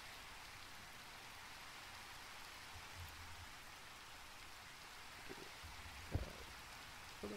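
Steady rain in Minecraft hisses without a break, a constant broadband patter with a few soft low thumps near the end.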